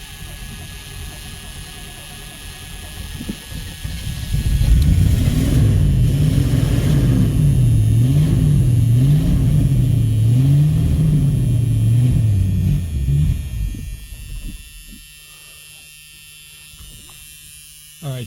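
A car engine under fuel system repair, with a faulty fuel sending unit, catches after a few seconds of quieter noise and runs loud and close with a wavering, surging idle for about eight seconds before dropping away to a faint steady hum.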